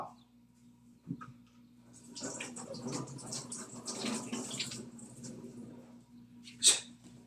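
Eggplant being rinsed under running water at a kitchen sink for a curry: a steady wash of splashing water builds for several seconds over a low constant hum, then fades, with a brief knock near the start.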